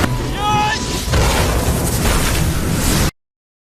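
A big fiery explosion from an animated fireball talisman thrown onto a heap of tiger grass, a loud sustained roaring blast with crackling debris that fills the whole moment before cutting off abruptly.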